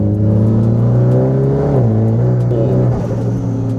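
A Mitsubishi Lancer Evolution X FQ440-MR with an upgraded exhaust idles and revs loudly up close, holding a steady throaty drone that dips and rises in pitch, heard alone.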